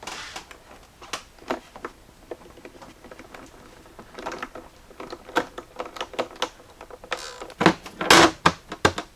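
Plastic engine cover clips snap into place on a 2018 Jeep Grand Cherokee WK2 with the 3.6L engine, producing a scattered series of sharp, close plastic clicks that grow louder toward the end.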